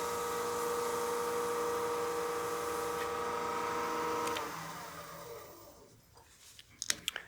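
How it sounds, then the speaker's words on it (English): A wood lathe running slowly while buffing a turned snowman oil candle: a steady mechanical hum with tonal whine that winds down and stops after about four seconds, followed by quiet with a few small clicks and handling sounds. "we'll turn the lathe on just kind of slow"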